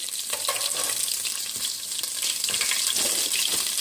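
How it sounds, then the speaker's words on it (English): Haitian epis seasoning fries in a pan for a gluten-free chicken pot pie, producing a steady, close hiss and crackle of sizzling oil with occasional stirring scrapes and no talking. "We're letting the Epis fry."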